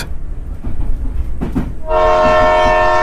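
A train rumbles and clatters along the tracks in an animated horror story, loud and close, then a sustained horn blares over the running noise.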